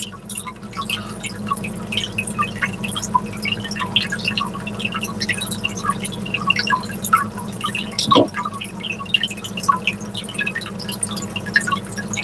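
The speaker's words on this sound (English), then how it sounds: "I wondered if you would hear the water too much." Aquarium water at fish feeding time fills the scene with constant dripping, bubbling and splashing over a low steady hum, close and continuous with no voices.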